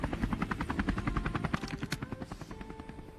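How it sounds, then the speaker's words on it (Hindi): Helicopter in the video game Scarfall, a steady rapid rotor chop pulsing throughout, loud and close, with no talk. "उसके बाद यहाँ से हेलीकॉप्टर लेके मैं बंदों को ढूंढने लग जाता हूँ।"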